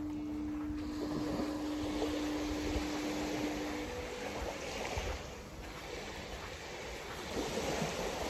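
Waves lapping against the shore on a calm, foggy Polish coast, a steady wash of water with wind noise and a faint low tonal hum early on, no talk.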